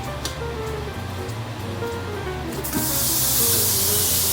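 Ground beef browns in an Instant Pot on sauté mode. Low clatter gives way partway through to a loud, sustained sizzling hiss that continues to the end.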